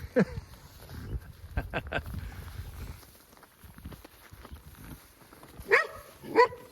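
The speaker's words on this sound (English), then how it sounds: "what are you barking for" A dog barks a couple of times near the end, sharp and moderately close, after quieter rustling and muffled sounds.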